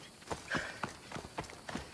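Horse hooves clip-clop in the video game Assassin's Creed Odyssey, a quick run of sharp, close hoofbeats repeating about every quarter second over a quiet background.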